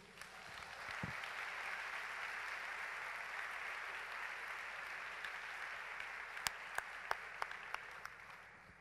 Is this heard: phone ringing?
no